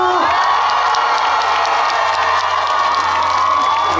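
A big outdoor crowd at a tomato festival stage cheers, whoops and claps in a loud, sustained roar, with children's shouts mixed in and a steady hum beneath the noise.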